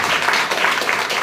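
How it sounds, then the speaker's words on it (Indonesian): Audience applause during a church sermon, a short burst of dense clapping that stays full and steady, fairly loud and close. "Tepuk tangan dulu yang meriah."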